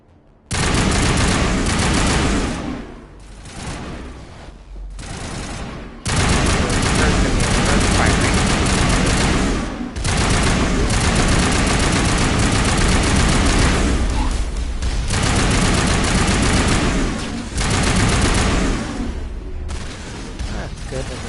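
Turrets in the video game Mass Effect Legendary Edition fire in dense, loud sustained bursts of gunfire and booms, nearly continuous for about twenty seconds with only short lulls, as a voice talks over the battle.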